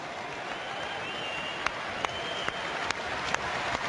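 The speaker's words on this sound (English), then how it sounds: "the applause for Fergus McFadden, who is at least sitting upright" A rugby crowd at a Leinster v Bath match applauds an injured player as he leaves the pitch, a steady, distant wash of clapping across the stadium with a few sharper claps standing out.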